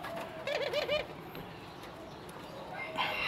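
Pet rock doves cooing during feeding: a brief, close burst of wavering coos, then quieter rustling and faint background sounds, with a voice in the background.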